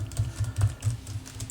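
Rapid, even typing on a Gigabyte Aero 16 laptop keyboard with good key travel, a steady run of soft close-up clacks without any voices.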